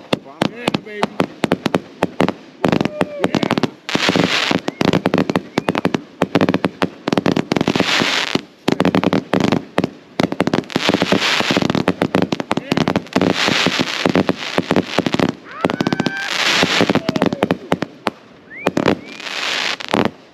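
A whole case of Outlaw Pyro Lucha Libre 500g firework cakes going off, with loud rapid volleys of bangs and crackling bursts repeating throughout, and people talking and cheering in between.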